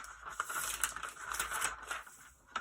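Sewing pattern paper lifted off a skirt draft, a soft close crinkling and rustling that continues in uneven bursts for a couple of seconds, faint and alone.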